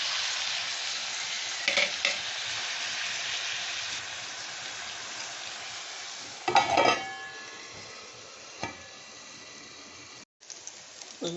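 Ridge gourd fries and is stirred in a pan, giving a steady, close sizzle broken by a few louder spatula scrapes and clatters against the pan and one brief dropout near the end.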